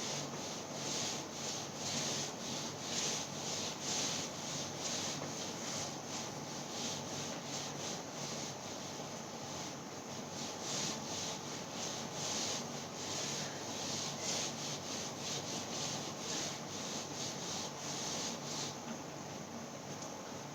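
Board being rubbed or erased with steady, repeated scrubbing strokes, soft and close, continuing throughout with no talking.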